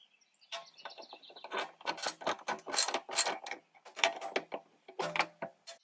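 A ratchet working 10 mm bolts loose from a Toyota RAV4 dash, quick bursts of close clicking in irregular runs with short pauses between.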